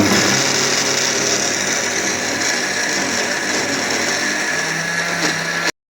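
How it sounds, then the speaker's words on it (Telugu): A kitchen mixer grinder whirs loudly and continuously as it grinds homemade masala powder, a close, dense mechanical roar that cuts off abruptly near the end. "దీన్ని మళ్ళీ మనం గ్రైండ్ చేసుకోవాలి."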